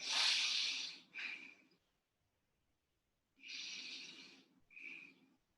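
Slow, deep breathing during a seated neck stretch, heard close up as two long airy inhale-exhale cycles separated by a quiet pause, with a slightly snorting, nasal edge.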